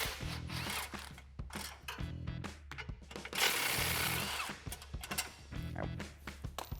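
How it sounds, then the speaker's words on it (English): A ratchet with an extension and 13mm socket loosening exhaust hanger bolts above the rear sway bar of a 2018-2023 Mustang GT, giving repeated quick clicking bursts with brief pauses, fairly close and moderately quiet. "So grab an extension and a 13mm socket. I'm going to go right over the rear sway bar and get these two bolts off."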